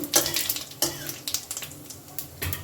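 Cloves, cardamom, cinnamon and whole sugar being stirred in hot oil in a pan, soft scraping and light clinks of a spoon over a faint sizzle, fairly quiet and close.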